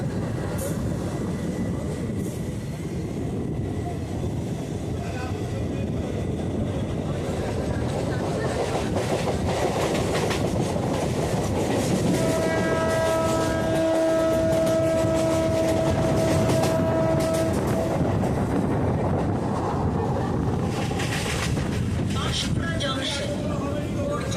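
A Panskura local train runs from Howrah toward Uluberia, its steady rumble and clatter of wheels continuous throughout, with a sustained whistle-like tone rising midway and loud onboard noise.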